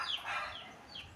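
Farm chickens cluck softly at feeding time, a brief, faint patch of hen calls with no voices over it.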